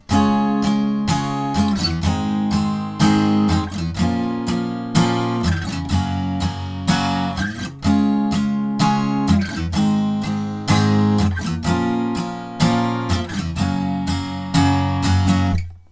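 Steady acoustic guitar strumming chords in a rhythmic pattern, close and loud, with no voice, playing the key-change final chorus of a song.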